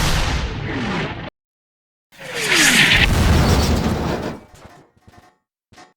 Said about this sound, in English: It can beam down artillery cannons to the surface, which can bombard a wide area with explosives.